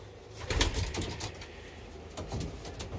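Pigeons coo in a loft during a cold winter season, soft repeated murmurs near and far with a few flutters and wing scuffs, no voices heard.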